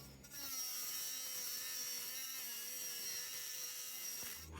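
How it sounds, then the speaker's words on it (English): A Dremel tool with a cut-off wheel whines continuously at high pitch, cutting through nuts on a Mercedes R107 headlight, steady and close with no speech. "very carefully use a cut-off wheel on a Dremel tool just to cut those nuts off without damaging that seal"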